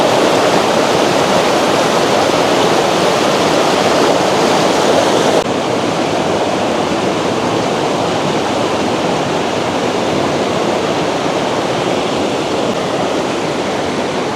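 A fresh-water stream rushes under an old bridge in a remote spot, making a loud, constant roar of flowing water that fills the whole scene without letup.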